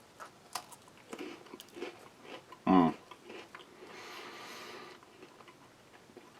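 Crisp tostada wheat bran crackers from a United Arab Emirates 24-hour ration being chewed close up, a series of quiet crunches and clicks with one louder bite partway through.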